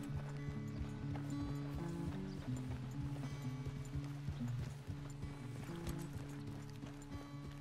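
Horse hooves clip-clop at a steady gallop in Red Dead Redemption 2, a continuous rhythmic pounding up close with low sustained game music underneath and an occasional whinny.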